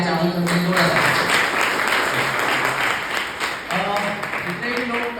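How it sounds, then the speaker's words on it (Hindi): Sustained applause from a crowd, dense and steady clapping for several seconds with some voices mixed in. "जोरदार तालियां चाहूंगा सबके जोरदार तालियां"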